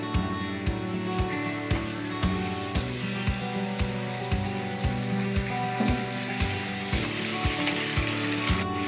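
Meat frying in a pan, a loud steady sizzle close by with faint rhythmic taps and a low hum underneath.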